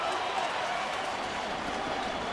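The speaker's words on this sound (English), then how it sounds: "That got the crowd right back into it" Crowd at a Cincinnati versus St. Louis baseball game cheering and applauding after a hit, a steady broad roar of many voices and claps at moderate distance, sustained throughout.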